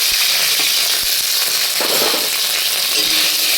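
Ginger-chili paste frying and being stirred in a pan over lowered gas heat, a steady close sizzle with a few faint scraping stir sounds.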